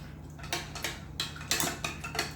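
A spoon clinks repeatedly against a glass while stirring a watermelon mojito of watermelon juice, a series of close, bright metallic taps in an irregular rhythm over quiet background hum.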